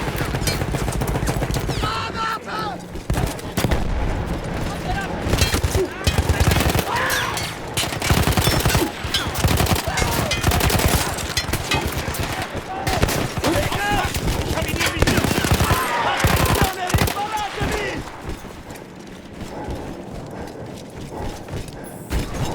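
A machine gun in Battlefield 1 fires in rapid, repeated bursts amid clanking mechanical rattles and creaks. Volleys stay loud and close across the whole stretch, with a voice talking over parts of it.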